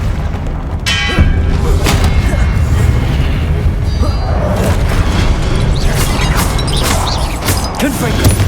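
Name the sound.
spell blasts (Incendio, Confringo) in Hogwarts Legacy video game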